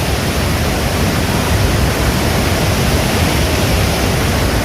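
Water released from the full Mukutmanipur dam in monsoon flood season rushes in a loud, steady broadband roar that stays constant throughout, with no voices.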